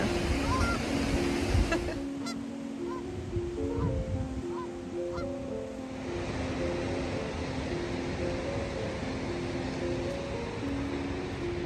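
Several geese honk repeatedly in a loose, overlapping chorus at close range on the California Pacific coast, with a steady wash of surf or wind in the background.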